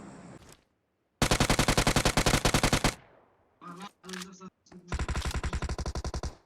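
Automatic gunfire in PUBG Mobile, several loud rapid bursts of shots separated by short gaps and a few single cracks, close and dominant.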